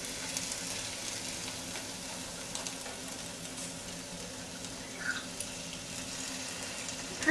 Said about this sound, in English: And then add about 2 tablespoons of lemon juice, or the juice of 1 lemon,